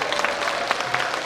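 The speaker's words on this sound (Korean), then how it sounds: "한번 큰 박수 한번 주시기 바라겠습니다." A short burst of audience applause for a singer taking the stage at a pops music show, dense and steady clapping heard close with no voices.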